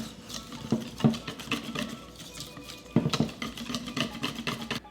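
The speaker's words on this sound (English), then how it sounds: "And now whisk the batter until it is smooth." A whisk beats coconut shrimp batter of whole milk and coconut rum in a bowl, making a close, steady patter of soft rhythmic taps and swishes.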